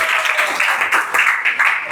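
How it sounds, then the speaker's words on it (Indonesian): Classmates clap for a student in a classroom lesson, a short burst of dense, fairly loud clapping that carries on evenly from start to finish. "Kasih tepuk tangan buat Selin."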